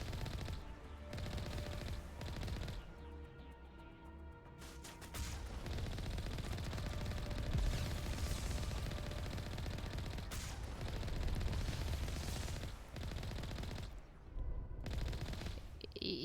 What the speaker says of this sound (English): Stop shooting through the rocks.